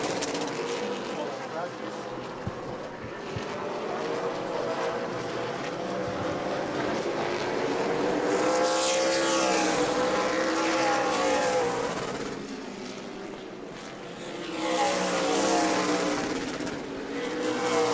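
Race cars lap the New Smyrna Sunbelt Series oval, engines droning and swelling as they pass, loud and continuous, with an announcer talking over them.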